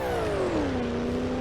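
A go-kart engine in BeamNG.drive holds a loud, buzzing high-revving whine whose pitch slides steadily downward as it settles, close and continuous without voices.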